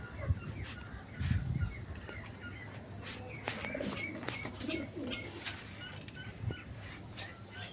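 Pet pigeons coo in low, soft, repeated rolls while being fed grain in a home pet enclosure, with scattered chirps from other birds and faint background voices.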